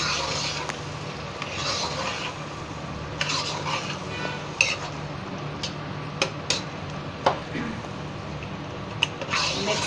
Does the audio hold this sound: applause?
no